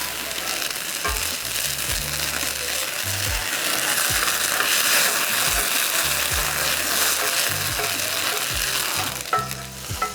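Steak au poivre pan sauce sizzles loudly and steadily in a hot pan after the alcohol is flambéed, a dense crackling fry with intermittent low knocks and a sharp clatter near the end, no voices.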